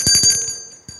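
A sharp electronic buzzer or bell signals the start of bidding at a Japanese fish market auction, sounding in a few rapid ringing pulses, loud and close, followed by a brief extra blip.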